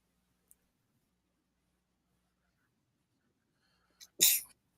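A single sharp, loud sneeze bursts out close by after several seconds of near silence, preceded by a faint tick and a tiny intake of breath.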